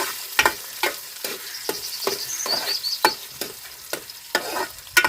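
Onions frying in a pan for an eggplant and potato curry, a crackling sizzle punctuated by about a dozen sharp, evenly spaced spatula scrapes, close and clear with no talking.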